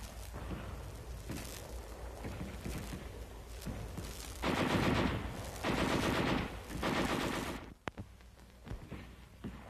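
Heavy machine guns firing in an infantry attack, with sporadic distant shots early on, then three loud sustained bursts of rapid automatic fire, followed by scattered single reports.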